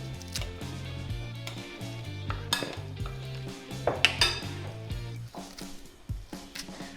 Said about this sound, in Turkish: Bir kaşık yardımıyla birleşmesini sağlıyoruz.